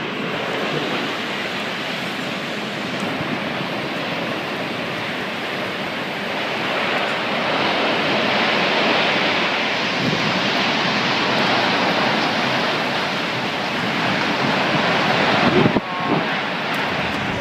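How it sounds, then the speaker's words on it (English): Roaring wind from the devastating May 2012 tornado that struck Tsukuba, Japan, a loud, unbroken broadband rush that swells slightly midway, with a brief sharp knock near the end. "the Japanese city of Tsukuba was hit by a devastating tornado"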